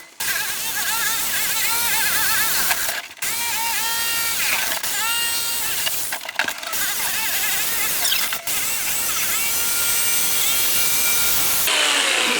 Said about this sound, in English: with a jigsaw bring it back and very, very carefully cut the neatest line I can possibly come up with